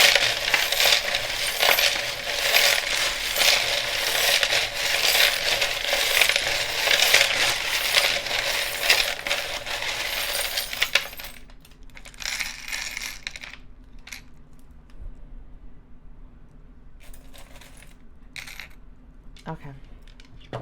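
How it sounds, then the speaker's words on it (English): A handful of small metal charms shuffled and tumbling together, a loud, dense jangling clatter close by that stops, followed by a few scattered clinks and quiet handling. "I'm going to shuffle the charmies, so it does get really loud"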